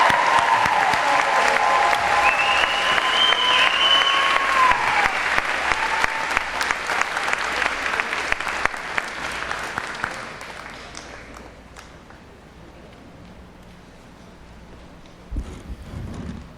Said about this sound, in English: Let's give one more round of applause to the graduating class of